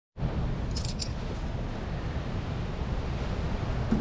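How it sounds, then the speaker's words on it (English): Strong wind blows outdoors across the microphone in a steady, loud broadband roar with no letup, heard alone with no talk. "It is quite windy out."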